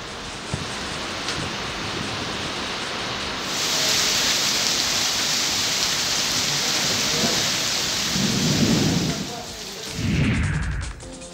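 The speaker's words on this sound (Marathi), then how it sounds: "दुपारी तब्बल तासभर इथं दमदार पाऊस झाला" Heavy afternoon rain pours down in Amravati, Maharashtra, a dense steady hiss that swells louder partway through, with deep rumbles of thunder rolling in near the end.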